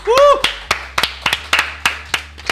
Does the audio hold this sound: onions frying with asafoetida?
no